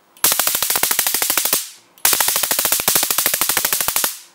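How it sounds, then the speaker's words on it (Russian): A telescopic TW-09 stun baton rated at 800,000 volts fires two loud crackling electric bursts of rapid snapping pulses, each lasting about a second and a half, close up with a short pause between them. "Ну, собственно, теперь сам электрошокер."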